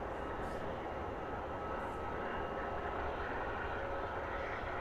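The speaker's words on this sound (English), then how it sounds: "Great early rotation on that latest Wizz departure." A Wizz Air airliner departs from London Luton Airport, its engines a steady, loud broadband roar that holds constant throughout with no voices.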